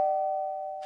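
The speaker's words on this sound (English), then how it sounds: "The doorbell's ringing because Fire connected the wires together." A cartoon doorbell rings with one sustained electronic tone, clean and steady and slowly fading, ending in a brief burst of noise.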